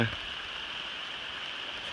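Steady rain falling outdoors on a forest hiking trail, a continuous even hiss that is moderately loud and close, with a brief louder rustle at the start.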